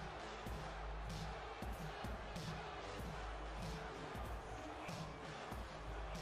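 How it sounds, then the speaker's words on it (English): A large virtual arena crowd in the wrestling video game WWE 2K18 roars and chants for Samoa Joe, rhythmic bursts rising over a constant loud din, with thumping impacts underneath. "You guys can hear the crowd chanting Joe."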